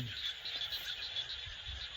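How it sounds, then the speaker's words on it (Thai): A dense chorus of frogs croaking continuously in a rice field at dusk, steady and fairly loud, with layered calls overlapping in a constant evening wash. "ฟังเสียงกบ เสียงกบเสียงเขียดธรรมชาติ ประสานเสียงร้องแบบ"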